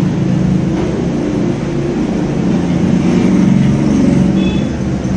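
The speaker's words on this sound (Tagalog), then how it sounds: "Maingay yung tricycle na dumadaan." A noisy tricycle passing close by on a street, a loud continuous motor rumble and road noise that holds steady for several seconds with no talking.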